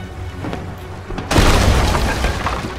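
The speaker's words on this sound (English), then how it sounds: "Take out their sails with the chain shots." A ship's cannon firing chain shot in the pirate video game Sea of Thieves, one sudden heavy boom partway through followed by a rumbling, crackling tail, loud and close over softer background game noise.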